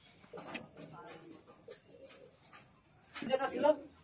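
Pigeons held for sale cooing nearby, soft repeated coos that build into a louder burst near the end, set against a quiet room.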